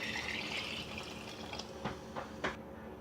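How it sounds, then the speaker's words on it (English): Water poured into a pressure cooker holding rice, a soft steady filling rush that swells and fades over a few seconds, with a couple of faint clinks near the end. "so I'm going to add 3 cups of water"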